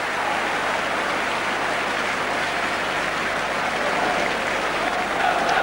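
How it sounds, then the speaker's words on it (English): Sustained applause from the Shed stand crowd at a Chelsea football match in the 1985-86 season, a dense steady wash of clapping that stays loud and even throughout. "So applause from the shed"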